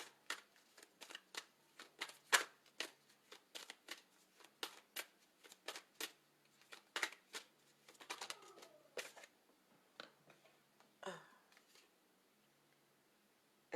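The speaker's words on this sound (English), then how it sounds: "Let's pull another goddess card." Goddess oracle cards being shuffled and drawn, a run of crisp, close riffling snaps in an irregular rhythm with quieter papery slides between, fading to near silence at the end.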